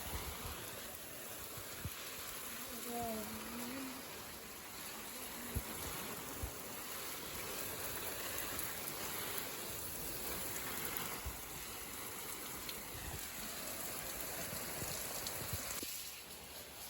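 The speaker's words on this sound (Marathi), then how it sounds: "मी आता पाणी घालत आहे झाडांना" Water poured over plants outdoors, a steady, fairly faint rain-like spatter lasting the whole stretch, with a few distant bird calls early on and no talk.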